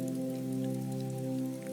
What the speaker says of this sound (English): Let the rain be the main sound.